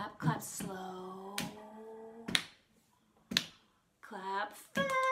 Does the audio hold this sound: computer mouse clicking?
no